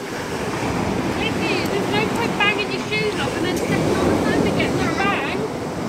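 Surf breaking and steady wind buffeting the microphone on a Cornwall beach, a constant loud wash of waves throughout, with faint voices and high calls mixed in.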